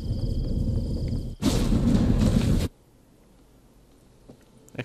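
A sudden loud burst of noise lasting about a second, an explosion in The Witcher 3, cuts off abruptly into near silence with faint clicks.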